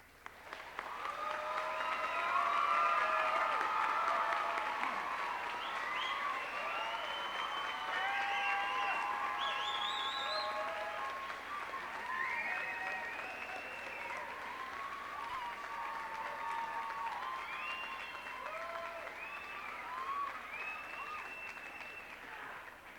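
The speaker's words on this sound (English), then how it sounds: "As you could give them a deserved round of applause." Sustained applause from a large audience for a 1989 high school graduating class, steady and full for over twenty seconds, slowly easing off but never stopping, with a little crowd murmur in the hall.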